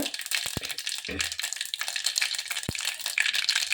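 Mustard seeds crackle and splutter in hot oil, a dense continuous sizzle with a few sharp pops, heard up close while cooking a greens and lentil sambar.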